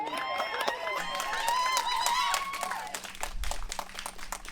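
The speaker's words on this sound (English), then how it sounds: "Next on stage, I want you to give a big round of applause." Applause and cheering for a contestant at a pinup pageant, crowd clapping under loud whoops and excited voices, then thinning toward the end as a low rumble enters.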